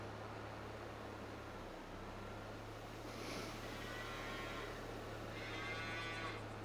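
Cattle in the Farming Simulator 22 video game give a couple of low moos over a steady, noisy background hum with a continuous low drone.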